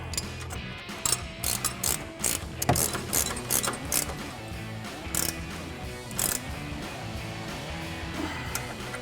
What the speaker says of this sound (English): we're gonna grab a 19mm wrench and a 19mm ratcheting wrench and tighten that down